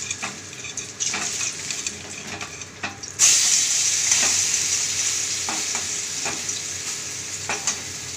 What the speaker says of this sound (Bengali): এক সাইডটা লাল করে ভাজা হয়ে গেছিলো, আরেক সাইডটা উল্টে দিয়েছি, সেটাও ভাজা হয়ে গেছে লাল করে